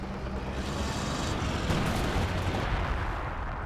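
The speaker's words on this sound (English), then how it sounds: "Lots of barrage into the base area again" Artillery barrage in Company of Heroes 2 pounding a base area, a dense rumbling roll of distant booms and blasts that blur into a continuous low thunder, fairly faint and without talk.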